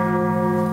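A church-style bell tolls in a school stage production of Macbeth, a sustained resonant ring with steady overtones, fairly loud and alone with no voices.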